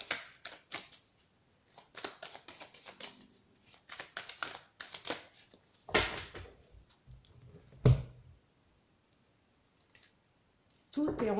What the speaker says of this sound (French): Allez, on va procéder à la coupe.